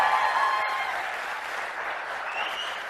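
Dense, steady applause from a large seated audience in an auditorium during a motivational talk, a continuous close wash of clapping that holds at an even level for about three seconds.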